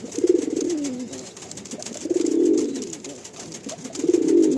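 Pigeons in a home loft give deep, throaty coos in three separate rounds, each one a rolling, swelling call close at hand. Quieter gaps fall between the rounds, and no one speaks.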